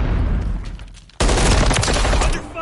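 Loud automatic gunfire in Call of Duty Modern Warfare 3 multiplayer on the Departure map breaks in abruptly after a quieter stretch and keeps rattling in a dense, continuous burst.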